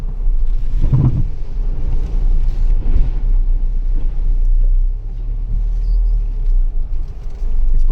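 A Tata Punch AMT compact SUV wades through a big water hole on an off-road track, a loud low rumble with a heavy whoosh and splash of water early on, continuing as a steady drone.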